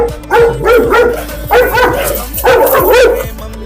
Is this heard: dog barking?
yes